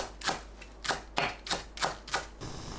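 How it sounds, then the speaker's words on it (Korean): Knife strokes chopping green onion on a cutting board, six sharp evenly spaced chops in quick steady rhythm, close and clear with no talking. "파는 반 갈라 작게 썰어주세요."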